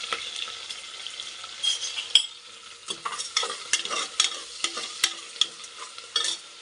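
Chopped onions with salt frying and being stirred in a pan for vegetable pulao, steady close sizzle broken by repeated scraping strokes of a spoon against the pan, no talking.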